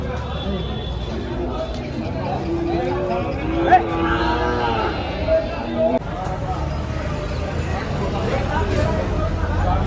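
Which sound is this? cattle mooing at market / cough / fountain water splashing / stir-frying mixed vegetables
cattle mooing at market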